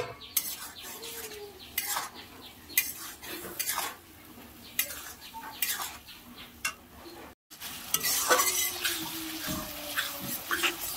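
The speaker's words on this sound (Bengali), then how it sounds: "ওটাকে আমি আস্তে আস্তে কষবো যতক্ষণ না মশলা থেকে একটা তেল বের হচ্ছে" Potatoes and spices fry in a pan for a Bengali dhokar dalna while a spoon scrapes and clinks against the metal in repeated strokes, with a steady low sizzle beneath and a short dropout partway through.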